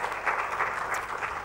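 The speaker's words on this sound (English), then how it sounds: "So a warm round of applause." An audience applauds at a panel event on democracy and Europe, dense steady clapping filling the room.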